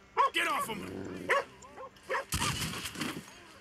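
Dogs bark in Red Dead Redemption 2, several sharp yips and barks in quick bursts at close range, with someone talking loudly between and over them.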